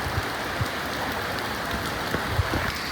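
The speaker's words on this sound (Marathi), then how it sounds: "पाऊस येतोय" Heavy rain in Talegaon falls steadily in a constant soft hiss, with scattered heavier drops tapping nearby.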